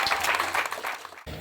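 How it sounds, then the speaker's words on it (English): Group applause during a fitness bootcamp, a short, fairly loud burst of clapping that breaks off abruptly near the end. "round of applause for those two guys."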